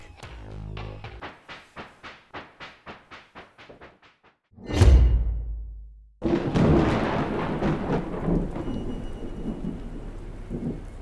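A thunderstorm in a pixel art video game: a rapid series of sharp, rhythmic taps gives way to a loud, booming thunderclap that rumbles off, then steady heavy rain pours close and continuous.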